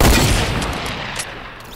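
Video game gunfire as a player shoots away a bush cover, a loud dense burst of shots at the start that tails off into a rattling, fading spray over under two seconds.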